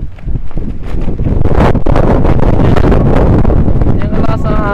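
Strong wind batters a riverside camp beside the Ambayaoan River, roaring and buffeting the microphone in loud gusts, while someone speaks over it throughout.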